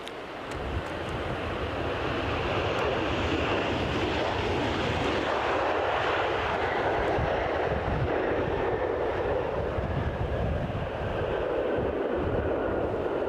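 Jet aircraft taking off at Edinburgh Airport, a loud sustained engine roar heard from a distance under heavy wind buffeting, steady for the whole stretch with no voices.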